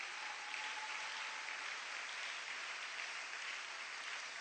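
Steady applause from a church congregation, a dense, even wash of clapping that holds throughout at a distance, faint and without pauses.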